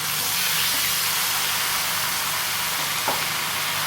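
Chicken frying in gingelly oil, a dense steady hiss and sizzle throughout with a faint clink near the end.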